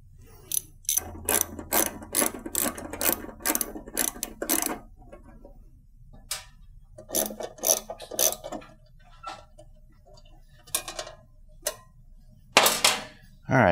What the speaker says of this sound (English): you're going to start by removing these two screws. You can use a flathead screwdriver or a 5/16 socket.